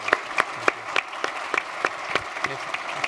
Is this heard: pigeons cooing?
no